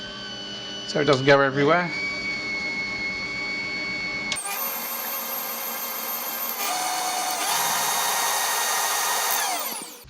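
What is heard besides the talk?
electric mixer beater starting up slowly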